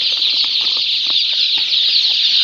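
Tiger breed chicken chicks, a crowd of them peeping densely and continuously with a few soft wing flutters mixed in, close and steady throughout.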